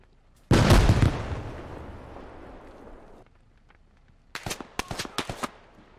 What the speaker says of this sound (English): Our vehicle's getting IED'd.